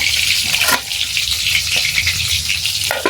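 Snake gourd sizzles and fries steadily in a pan over a wood-fired stove, a loud continuous crackle with occasional stirring scrapes and no talking.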